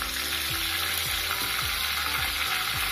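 Mustard seeds and curry leaves with a pinch of asafoetida sizzling in hot oil for a tadka for roasted peanut chutney: loud, dense, steady frying hiss with faint rhythmic scraping ticks about every half second.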